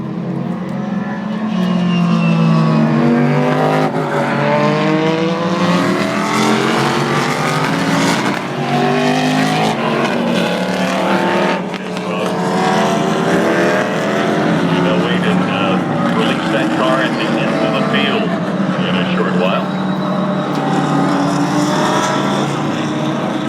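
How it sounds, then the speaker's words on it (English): GT race cars led by a TRG Porsche GT3 Cup roar past at the Daytona 24 in 2011, with engine notes rising and falling through several loud passes while a commentator talks over them. "Here comes the GT cars, being led by Dominic Farnbacher in the TRG Porsche GT3 Cup for Kevin Buckler's team."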